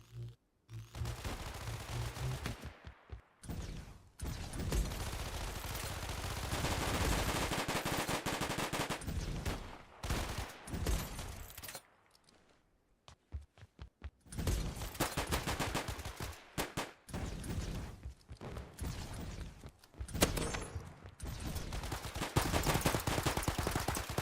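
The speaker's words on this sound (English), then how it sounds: "Okay, I'm liking the shotgun." Shotgun blasts in the pre-alpha shooter Shatter Rush come in rapid, loud, close volleys with brief gaps, alongside other gunfire during a match.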